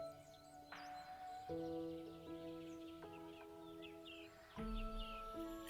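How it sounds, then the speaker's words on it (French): Birds sing in a natural setting, with several clear, melodious whistled phrases and chirps overlapping at a moderate distance against a quiet background, no voices. "Le chant mélodieux des oiseaux."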